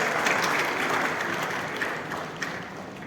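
Sustained audience applause welcoming Sir Asante as chairman at a formal memorial lecture, a dense crowd clapping loudly and steadily, tapering off slightly toward the end.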